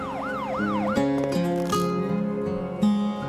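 A police car siren wails in repeated rising-and-falling sweeps over a melodic musical backing, loud and close, with no talk.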